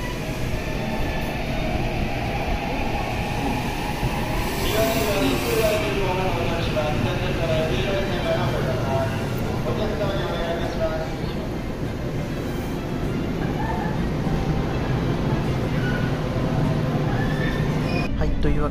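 Inside an express train running toward Shiroko between Matsusaka and Yokkaichi, a steady rumble and rail hum continue throughout with no break.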